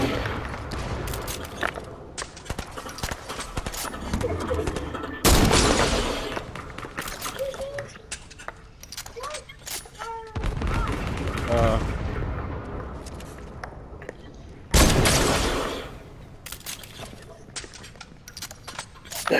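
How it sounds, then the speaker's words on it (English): Automatic and single gunfire in the Fortnite video game, with rapid bursts and sharp loud cracks repeating through the clip, mixed with game effects and people talking over it. "Yeah, shoot him from there, Nagu."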